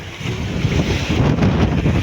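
From a boat at sea in rough weather, wind roars over crashing waves in a dense, steady wash of noise, close and fairly loud for a brief stretch, with no talking.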